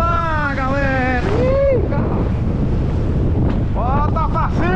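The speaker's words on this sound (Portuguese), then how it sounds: "Tá ventando bastante, galera" Strong wind roars and buffets the microphone throughout while fishing, as someone talks loudly over the gusts.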